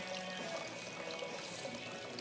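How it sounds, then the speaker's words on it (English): Water trickles and splashes continuously at a soft, even level from a small rice paper waterfall fountain. "This is a waterfall fountain. This is a small one."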